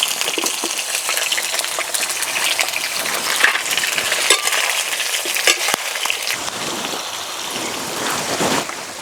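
Pointed gourd (potol) fries in oil without salt, giving a dense, continuous crackling sizzle like rain. It stays fairly loud throughout with scattered sharper pops, and no one speaks.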